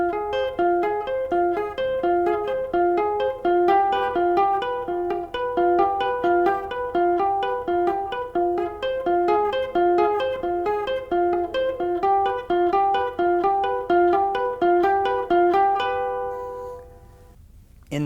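Guitar playing the first half of a bridge part, a steady run of picked notes forming shifting chord arpeggios, clean and close, ringing out near the end.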